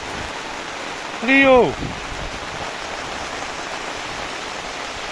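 Light rain falls outdoors as a steady, even hiss throughout, broken briefly near the start by a person calling out.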